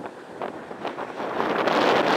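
Strong gusty wind in an open field buffets the microphone, rising from uneven rushing bursts into a louder, sustained roar.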